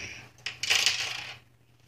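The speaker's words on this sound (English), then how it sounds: "Was that the sound of money?" Several coins drop and clatter in quick succession, a bright metallic jingle that swells and then fades, loud and close over a faint low hum, with no talking.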